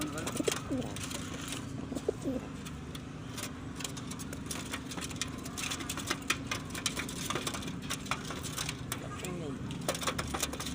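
Pigeons coo softly in a steady, low murmur, with traffic hum and occasional voices around them.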